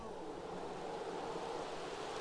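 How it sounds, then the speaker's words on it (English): Wind blows in the Sims 3 video game in the evening, a soft, continuous rushing whoosh that stays level and fills the whole stretch without speech. "It is really windy out. You can hear it."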